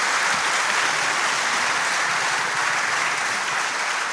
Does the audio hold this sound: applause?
yes